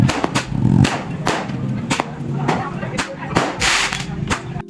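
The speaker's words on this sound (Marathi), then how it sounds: "बाहेर जाऊन बघितलं तर फटाके वाजत होते नाक्यात." Firecrackers burst at a street corner during Laxmi Puja celebrations, a rapid string of sharp cracks and bangs at varying distances, some close and loud, with background voices and crowd noise underneath.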